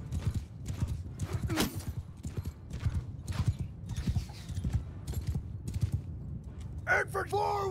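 Hooves of a ridden horse clip-clop in a steady rhythm in the Mount & Blade II: Bannerlord game, close and fairly loud beneath battle noise, with a sharp whinny-like cry near the end.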